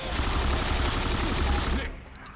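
Rapid automatic gunfire in the zombie shooter Left 4 Dead 2, a loud continuous burst of shots lasting about two seconds before cutting off into quieter background.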